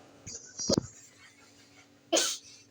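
A dog sneezes from dust, a sharp burst up close, then a second sneeze follows after a short pause in an otherwise quiet room.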